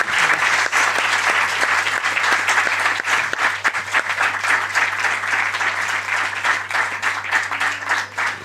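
Audience applause at a book presentation, steady dense clapping from a crowd lasting the whole stretch, with a faint low hum beneath.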